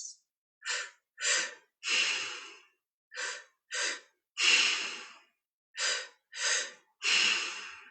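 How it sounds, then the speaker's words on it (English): Slow, deep meditative breathing comes close and alone, a steady series of about ten airy inhales and exhales separated by short silent pauses. "noticing your belly as you keep breathing in and out like this"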